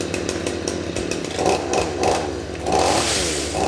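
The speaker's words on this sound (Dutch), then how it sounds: "Zo brengt u een verzopen kettingzaag weer snel tot leven." A flooded chainsaw engine sputters and catches, then revs in repeated loud bursts, rising and falling several times, close by with no voices.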